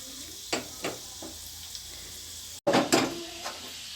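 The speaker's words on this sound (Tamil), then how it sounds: "ஒரு கைப்பிடி முந்திரி திராட்சை நம்ம சேர்த்துக்கிறோம் சேர்த்து பொறிச்சு போட்டுக்கலாம்" Cashews and raisins frying in ghee for aval pongal, soft sizzling with a few scattered stirring clicks and a sharper burst of crackle as more are added, faint and close.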